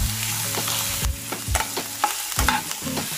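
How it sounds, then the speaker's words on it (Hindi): Chopped capsicum is sautéed in a hot pan, a close crackling sizzle punctuated by a regular series of knocking spatula strokes against the pan. "यहाँ पे डालना है शिमला मिर्च, इसको भी हम थोड़ा सा सौते कर लेंगे"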